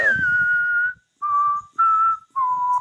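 A person whistles a tune up close, four clear sustained notes separated by short pauses, loud and alone with no talk.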